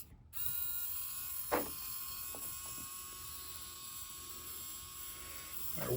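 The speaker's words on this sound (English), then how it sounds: "Our winch control works." Vehicle winch motor whirring at a steady electric pitch after a click, running continuously close by with a few faint knocks and a thump near the end.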